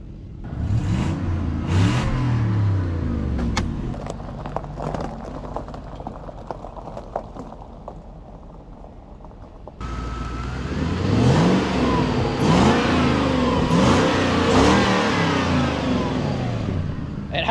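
A Lexus GS400 engine revs and idles, its steady mid-pitched drone rising and falling, fading to a quieter idle, then climbing through several louder revs.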